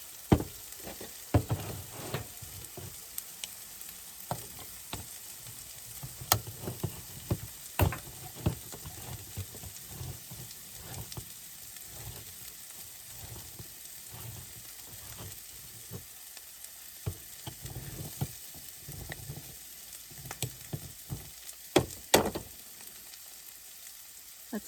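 Food sizzling in a pan on a camp stove during a solo car camping trip, a low steady crackle punctuated by scattered clicks, knocks and handling sounds, close by with no talking.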